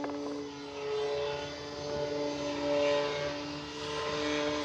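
Electric motor and propeller of an FMS Ranger 1800mm RC airplane run at full throttle, a steady close-up whine with strong harmonic tones that swells and eases slightly while holding speed, no talking.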